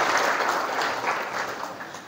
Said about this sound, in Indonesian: Tepuk tangan buat moderatornya hari ini.